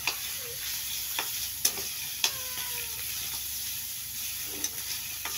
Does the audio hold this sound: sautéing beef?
yes